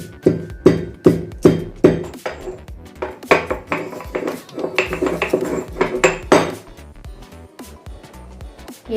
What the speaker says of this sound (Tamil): இந்த ஏலக்காயை நல்லா நுணுக்கி வச்சுக்க போகிறோம்